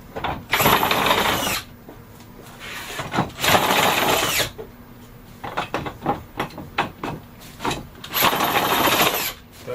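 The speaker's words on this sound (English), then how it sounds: "Doesn't take long with the drill." Power drill tightening clamps whirs in several bursts, spinning up and winding down with short pauses and rattling between, close and loud.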